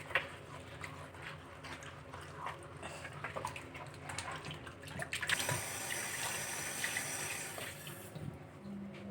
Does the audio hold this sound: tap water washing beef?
yes